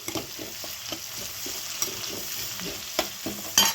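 Sliced large onions fry and get stirred in a pan, with a steady soft sizzle and scattered clicks and scrapes of the spoon, close and moderately quiet, no talking.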